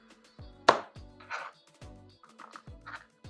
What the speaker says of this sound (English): I just had some carrot sticks in my refrigerator. I'm going to chop those up